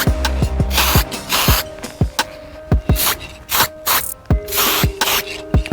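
Aerosol paint sprayed in short bursts onto worn plastic edges, each a close, loud hiss separated by brief pauses, with small knocks and clicks of the can between bursts.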